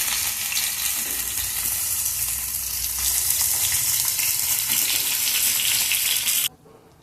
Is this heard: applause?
no